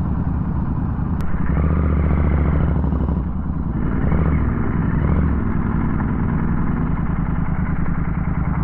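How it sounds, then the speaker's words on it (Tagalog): A motorcycle crosses a bridge over a rain-swollen river in Tanay, Rizal, its engine droning loud and steady right beside the listener, with a rattly clatter and no talk. "Pag dumaan sa tulay ng nakamotor, kailangan hindi ka matatakotin sa height nito."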